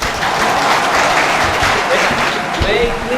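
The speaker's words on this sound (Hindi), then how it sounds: "और आपने ताली भी बजा दी" An audience at a Mumbai Kavi Sammelan poetry recital breaks into loud, dense applause that fills the hall steadily, with voices mixed in beneath the clapping.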